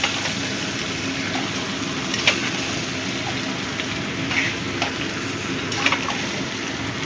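Mutton curry fries in a pan with a steady, close sizzle and crackle. A spoon stirs and scrapes it now and then, and there is no talk.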